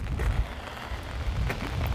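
Rain falls on a windy, wet night in Bourton-on-the-Water, a soft steady patter and hiss with low gusty rumble, faint and continuous with no voices.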